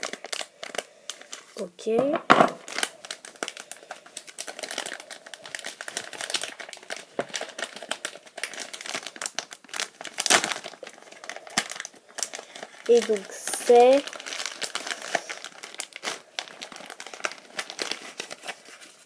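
The wrapper of a Tsum Tsum booster pack crinkles and crackles up close in bursts as it is handled and opened, while someone speaks in French over it.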